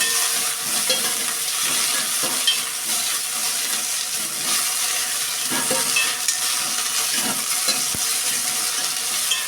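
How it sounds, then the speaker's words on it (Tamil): Mudakathan keerai greens sautéing in sesame oil, giving a steady close sizzle and fry hiss throughout, broken by the scrape and clatter of stirring in the pan, with no talking. "சேர்த்துக்கிட்டு வதக்கிக்கோம்."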